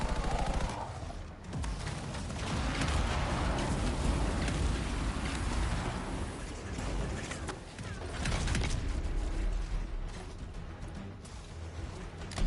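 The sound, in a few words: laser attack hitting the player in the video game Anthem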